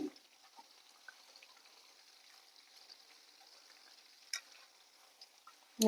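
Garelu, fritters of lentil batter, crackle and bubble softly in hot frying oil, a faint steady sizzle with a few small pops and clicks.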